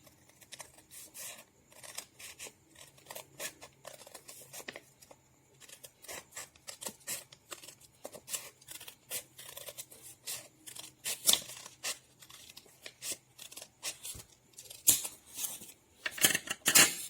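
Scissors cutting folded colored paper, repeated close, crisp snipping and rustling in irregular bursts throughout, with a few sharper clicks of the blades.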